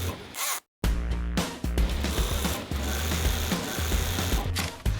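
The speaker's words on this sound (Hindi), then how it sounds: "अब बारी है सिलाई की।" A sewing machine stitches the fly of a pair of jeans in a factory in India. The loud, dense mechanical whirring breaks off briefly near the start, then runs on with rhythmic stitching bursts.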